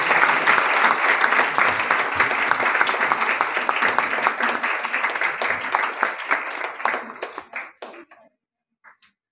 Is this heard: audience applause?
yes